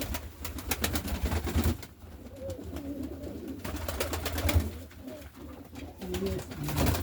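Pigeons coo softly and repeatedly nearby, low throaty calls over a background of rustling and faint shuffling.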